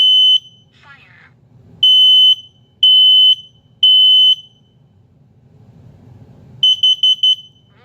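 A Kidde P3010CU combination smoke and carbon monoxide alarm blares loud, piercing beeps: four long tones in a steady rhythm, then a burst of quick pulses, with faint low voice and movement between them.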